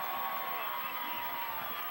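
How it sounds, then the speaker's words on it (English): Football fans in the stands at a NU Miners vs Elk Grove Thundering Herd game applaud and cheer after a made field goal, a steady distant crowd wash with no clear peaks. "the fans applauding the offense of the Miners"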